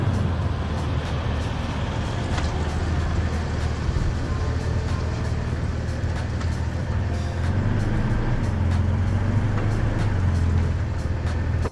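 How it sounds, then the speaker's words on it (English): A pickup truck being pulled forward on a sloped spot for motorcycle loading sends out a steady low engine rumble close by, rising slightly near the end, with scattered clicks and rattles. "we're going to pull the truck forward"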